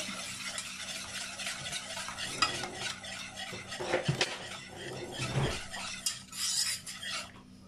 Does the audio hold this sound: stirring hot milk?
yes